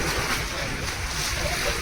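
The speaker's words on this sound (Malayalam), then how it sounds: "അപ്പോൾ ബോട്ട് എടുക്കാൻ പോവാണ്." A tour boat on Vembanad lake at Kumarakom sets off with a steady, loud low rumble of its engine, mixed with washing water and wind buffeting the microphone, continuous throughout.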